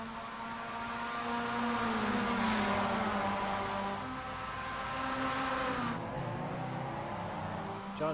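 Mazda MX-5 race cars circulate at the Long Beach street circuit, engines droning and shifting pitch steadily as they pass, at moderate distance, with faint commentary voices under the engines.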